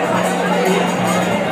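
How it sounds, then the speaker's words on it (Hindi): Crowd hubbub at the Tarkulhi Devi temple fair on a busy Monday with long queues, a dense continuous babble of many voices close around. "क्या गजब की भीड़ है यहाँ पे"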